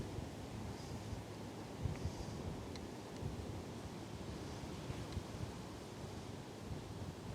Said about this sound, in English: I mean, it's really blustery right now.